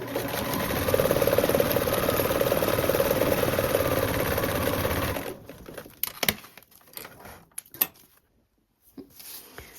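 A sewing machine runs a long continuous basting stitch on lining fabric for about five seconds, then stops, leaving scattered close clicks and fabric handling noises.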